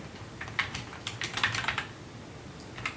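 Close, quick keystrokes clatter on a computer keyboard in irregular bursts, with a short pause and a last few taps near the end, alone with no talking.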